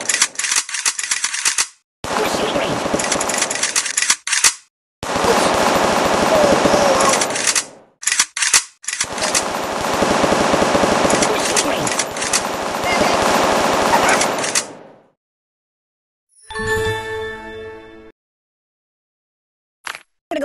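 Loud, rapid machine-gun fire rattles in long sustained bursts with short gaps from the mobile game Kick the Buddy, followed by a brief sharper burst, with a voice occasionally heard.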